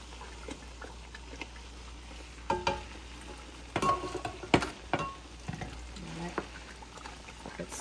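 Ghana jollof rice cooking in a pot, a low simmering bubble with scattered clinks and stirring scrapes, fairly faint and close, a few sharper knocks midway, no clear talking.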